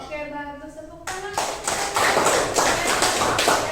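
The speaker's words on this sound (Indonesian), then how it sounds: "Oke, bagus. Tepuk tangan." Classroom of students claps hands together after a teacher speaks briefly; rapid, close, irregular claps begin about a second in and build into a sustained burst of applause.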